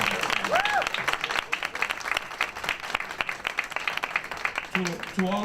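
A crowd at a Hispanic Heritage Month kickoff event claps steadily for an event organizer, dense applause carrying on while a voice speaks over it near the end.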